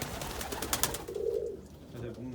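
A mated pair of black mookie pigeons coos in a loft, a short soft rolling coo rising near the middle, with other faint bird sounds and a brief voice around it.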